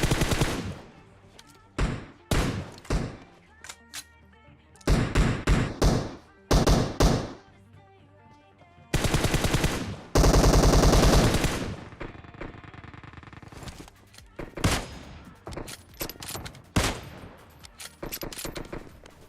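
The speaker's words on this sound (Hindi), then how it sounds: "यहाँ पर मैंने अपनी M4 की सारी एमओ खत्म कर डाली" M4 rifle fire in Garena Free Fire comes as short, sharp bursts and rapid tap-fire volleys separated by brief pauses, with a couple of longer sustained strings, loud and close.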